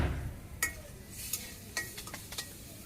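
Ash gourd frying in a pan in a Bangladeshi village kitchen, heard as a faint, soft sizzle under a few scattered metallic scrapes and clinks of a spatula stirring, close and quiet, with no voices.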